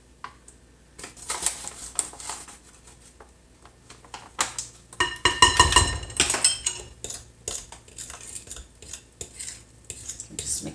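Utensil scraping and clinking against a bowl while peanut butter cheesecake filling is mixed with a couple tablespoons of sweetener, in bursts of close, busy stirring with brief pauses and no talk.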